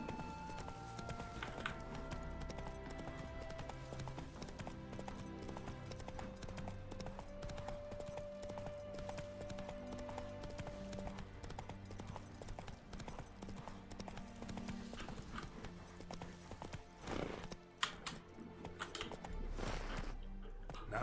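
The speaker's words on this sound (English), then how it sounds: "Not so fast, Roach." Steady clip-clop of a horse's hooves in The Witcher 3: Wild Hunt, walking under game music and ambience, with a brief louder knock near the end.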